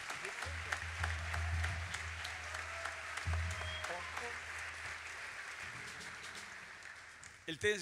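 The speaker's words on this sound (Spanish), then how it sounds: "Un aplauso para él" Audience applause at a jazz festival concert, a sustained fairly quiet wash of clapping from the crowd with a steady low hum underneath, fading toward the end before a brief louder knock.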